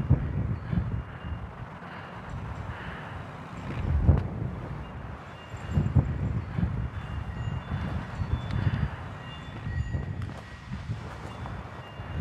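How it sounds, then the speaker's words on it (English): High windstorm blowing across an outdoor microphone, making deep rumbling gusts that swell and fade in irregular bursts with no voices. "we're in the middle of a really high windstorm, and the high wind here really creates horrible audio."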